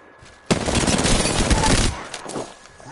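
Sustained rapid gunfire in a battle royale video game fires in a dense, loud burst lasting about a second and a half, then tails off into quieter background sounds.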